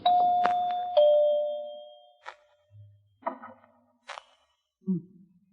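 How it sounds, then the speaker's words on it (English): A doorbell sounds two clear chiming tones that ring out and fade, followed by a few scattered soft knocks and clicks. "Now, where's that doorbell?"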